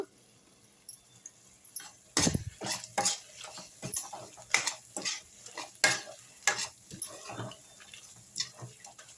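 Chilli and coriander powder frying in a pan for chicken biryani, heard as a faint sizzle broken by repeated sharp scrapes and knocks of a spoon stirring.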